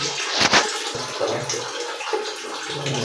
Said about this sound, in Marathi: आंघोळी पाणी सोडले सध्या.